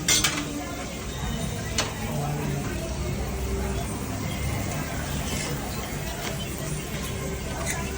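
A frankie roll of dough and potato cooks in a pan, giving a steady frying hiss with scattered clinks and scrapes of utensils, while people talk in the background.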